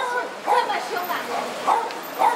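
Small fluffy dog giving several short, high yapping barks at a busy food street in Fuzhou, China, spaced across a couple of seconds over crowd chatter and nearby talking.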